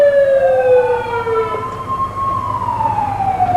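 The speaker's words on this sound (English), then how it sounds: "Lyon Mountain Volunteer Fire Company rescue truck." A Lyon Mountain Volunteer Fire Company rescue truck wails its siren in a Fourth of July weekend parade, one loud rising-and-falling sweep with a steady engine rumble underneath and no talking.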